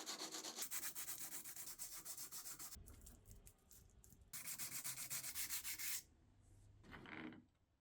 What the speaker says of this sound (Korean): 사포는 여기에 이렇게 놓고 길이 방향으로 이 단차를 줄여주시면 이 단차가 점점 줄어들어서 단차를 맞출 수가 있습니다